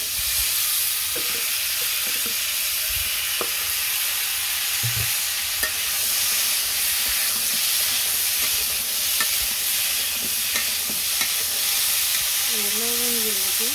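Vegetables go into a pan of hot oil just used for frying fish and fry with a steady, close sizzle and crackle, broken by soft stirring scrapes and clatter across the whole stretch.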